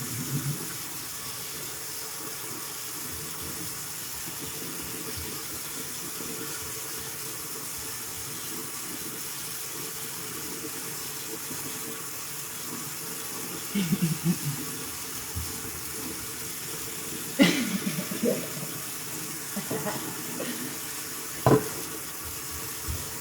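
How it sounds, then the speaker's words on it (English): Tap water runs steadily into a sink as a continuous hiss, with a few louder splashes and clinks near the end and no talking. "Run, water, run."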